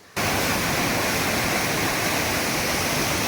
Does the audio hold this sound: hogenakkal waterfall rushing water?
yes